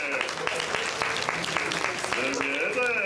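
Audience at the Turtle Talk show at Tokyo DisneySea applauds for Takeshi with a soft, steady patter of clapping, while a voice speaks over it with lively talk.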